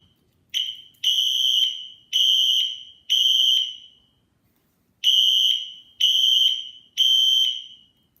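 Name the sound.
Wheelock Exceder fire alarm sounding in a garage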